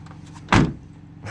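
An old truck door slams shut once with a solid, close thump, followed by quiet.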